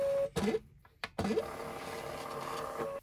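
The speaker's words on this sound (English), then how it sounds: "So we'll make sure they're aligned and then just close it down and it will auto-feed." A label printer auto-feeds labels: a short motor whir, a pause with a click, then a longer mechanical whirring run with faint tonal squeaks, close and moderately quiet, with no talking.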